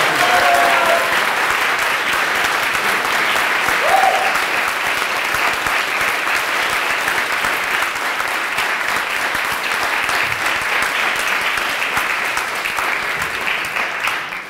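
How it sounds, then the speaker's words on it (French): Loud, sustained applause from the audience at a regional cup final, a thick continuous roar of clapping that holds steady for the whole stretch and eases only slightly at the close. "qu'on applaudisse très très fort Tom Roberts pour ce travail accompli"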